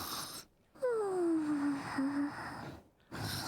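A female character in a Genshin Impact cutscene lets out a drawn, falling snore-like moan in two breathy pulses, set between short quiet gaps.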